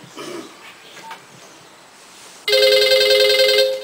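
A telephone starts ringing abruptly near the end, loud and close with a steady electronic trill, after a quiet stretch with faint background noise.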